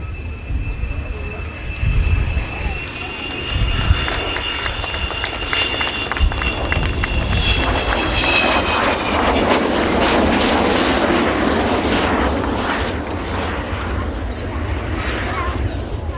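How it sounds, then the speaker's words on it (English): The Olympus jet engines of an Avro Vulcan B2 bomber roar loudly and steadily from close by, with a high whine rising and falling over the deep rumble for the whole stretch. "the Vulcan B2 on your left"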